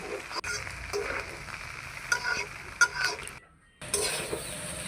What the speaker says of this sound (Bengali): আমি এখন ভালো করে নেড়ে চেড়ে নেব ভেজে নেব মাংসটা